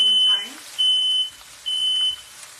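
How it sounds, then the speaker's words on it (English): A kitchen smoke detector sounds while someone cooks soup: three loud, piercing high-pitched beeps at an even rhythm, each about half a second long, separated by short gaps. "My smoke detector is so dramatic."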